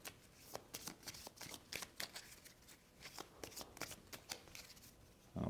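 A deck of upgrade cards for a tabletop board game gets shuffled, giving a quiet run of quick papery riffles and taps in an irregular rhythm, close and faint, with no talking.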